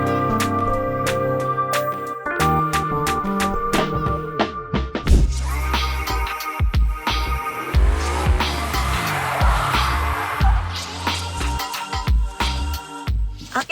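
BYD Sea Lion 5 car driving through a slalom course, engine and road noise with sharp, repeated tire squeals and skids rising and falling over several seconds.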